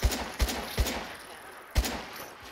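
A gun in Fallout 4 VR fires a handful of sharp, evenly spaced single shots, loud and close, then goes quiet briefly before one more shot and a softer trailing pop.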